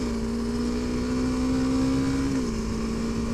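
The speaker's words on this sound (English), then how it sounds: "when you hit the throttle on this, it just goes" A Honda CRF300L motorcycle on back-country roads gives a loud, steady engine drone with rushing wind, holding a constant pitch before it dips slightly near the end.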